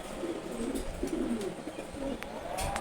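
Several male pigeons coo together, their soft throaty calls rising and falling in overlapping bursts at close range, with faint clicks and rustles in the loft.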